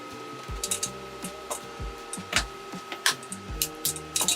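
Tightening injector hold-down bolts on a Cummins 6CTA 8.3L marine engine: a run of close metallic clicks and ratcheting ticks in uneven bursts, with faint mechanical clatter between strokes.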